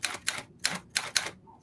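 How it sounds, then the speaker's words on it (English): A 1938 Adler Standard typewriter is typed on: five crisp, close keystrokes in an uneven rhythm, each a sharp clack, in a quiet room. "Here's another fantastic machine, an Adler Standard from 1938."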